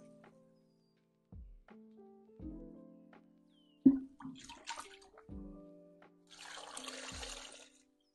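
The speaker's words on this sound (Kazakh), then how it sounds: "Бисмилля деп суымды құяйын." Water is poured into a jar for pickling green tomatoes with cabbage. Quiet clinks and handling knocks come first, then a soft, steady splashing pour lasts about a second near the end.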